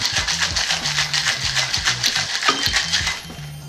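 Cocktail shaker being shaken hard while mixing a brandy punch with raspberries, a loud, fast, even rhythm of ice rattling against metal that lasts the whole time before stopping abruptly.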